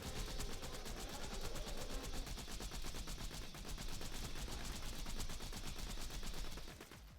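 Rapid, sustained automatic gunfire from a video game in the Limitless mod, dense repeated shots rattling continuously for several seconds and easing slightly at the end, with no talking.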